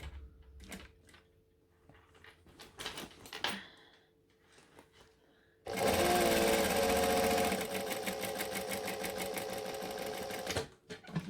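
Following some quiet handling clatter, a sewing machine starts abruptly and stitches the bottom of a bowler bag in a loud, sustained, even whir for about five seconds before stopping.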